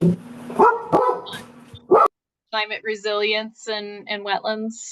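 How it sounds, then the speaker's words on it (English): A dog barks several times, loud and close, in a home during an online meeting. The sharp barks come in the first couple of seconds, then a person starts talking. "Sorry, that was my dog."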